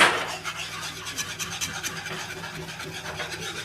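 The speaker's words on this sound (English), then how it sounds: "Sometimes you can just use a whisk." A whisk scrapes rapidly through a butter mixture in a bowl for a cake batter, a close, steady rhythmic raspy rubbing with quick repeated strokes and no talk.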